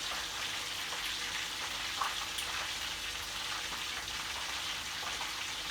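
Fish frying in a pan gives a steady, dense sizzle that holds at even loudness throughout, with faint crackles and no voices.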